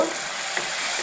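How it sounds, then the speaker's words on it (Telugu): Tomatoes with salt fry in a pan for mint chutney, making a brief, close, steady sizzling hiss with no talking. "బాగా ఫ్రై అవుతుంది"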